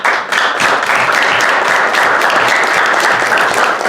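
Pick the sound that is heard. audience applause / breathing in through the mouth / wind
audience applause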